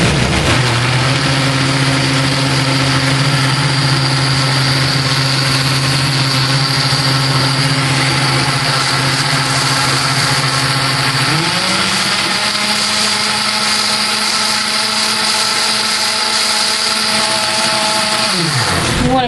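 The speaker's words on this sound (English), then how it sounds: "Put this in the blender." A kitchen blender mixes clafouti batter with sugar and flour. A loud, steady motor whir runs without pause and shifts to a slightly different pitch partway through. No voices.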